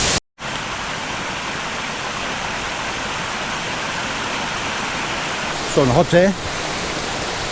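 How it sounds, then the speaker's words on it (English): Broad steady roar of a spectacular waterfall, High Force, pours continuously throughout, loud and close, with someone speaking briefly over it near the end. "you want a spectacular waterfall, this is the place to come."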